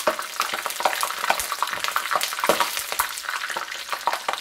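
Spring flower tempura, battered dandelion, rapeseed blossoms and fudge-leaf shoots, spatters and crackles in hot frying oil, a dense close sizzle with frequent sharp pops throughout, no voices.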